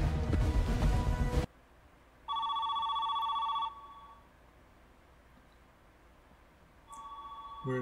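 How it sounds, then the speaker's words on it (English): A telephone in a TV drama rings in two distinct electronic bursts several seconds apart, fairly faint against a quiet room tone, following a louder stretch of music. "Is that Nancy on the phone?"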